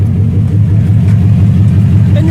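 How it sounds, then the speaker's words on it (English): Exhaust of a 2013 Mustang GT idling close by after an oil change, a loud, steady, deep rumble with a low throbbing pulse and no revving. "listen to that exhaust"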